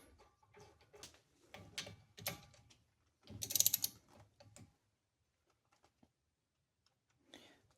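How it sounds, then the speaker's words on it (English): Ratchet clicking as a bolt is threaded back onto a 2018-2022 Toyota Camry front brake, several short bursts of quick metallic clicks close by, separated by pauses, ending in near silence. "I'm gonna put the bolt back on"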